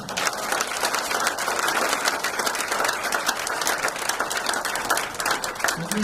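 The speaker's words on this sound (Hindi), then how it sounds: "एक बार जोरदार तालियां हो जाए ये सारे किसानों की।" An audience at an organic agriculture gathering in Sangli gives farmers a loud round of applause, dense sustained clapping from many hands throughout, with a little crowd noise underneath.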